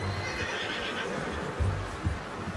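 A horse neighs in the video game Red Dead Redemption 2, a loud whinny over a dense wash of ambient game noise with a few hoof thumps, no talking.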